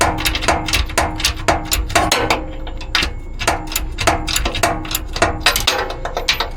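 A wrench ratchets against a bolt on a 4L80E transmission of a Workhorse P32 motorhome, producing a steady run of rapid, sharp metallic clicks and knocks, loud and close, repeating evenly, with no one speaking.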